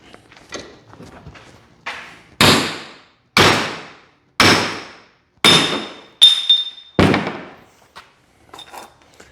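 A hammer strikes a flux core weld on 1/4 inch steel plate until it breaks, about six loud, ringing metallic blows at a steady pace, each decaying quickly, with faint clatter between.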